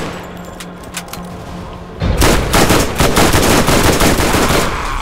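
Gunfire in the video game Borderlands, with a few scattered shots followed by a loud, sustained burst of rapid automatic fire that carries on to the end.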